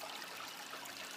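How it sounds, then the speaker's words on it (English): Bell siphon on a reef tank surge device drawing air and water through a pipe, a continuous hissing, trickling gurgle of rushing water, soft and steady throughout. "it immediately starts to siphon air from up here down through the pipe, and in turn draws water up through the pipe"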